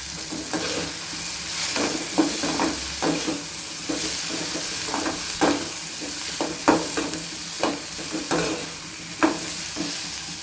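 Small chopped pieces sautéing in a pan for a tamarind vathal kuzhambu, a constant frying hiss broken by frequent irregular spatula scrapes and taps, fairly close and with no talking.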